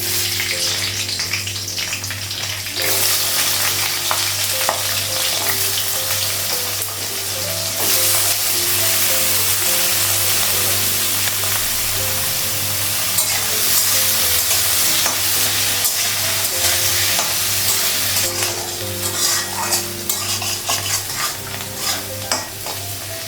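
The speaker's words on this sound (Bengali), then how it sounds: "আলুটা ভাজা হয়ে গেছে" Potatoes frying in hot oil with panch phoron and green chilli for a Bengali breakfast dish: a loud, dense, continuous sizzle close by, swelling and easing as the pan is stirred, with no talking.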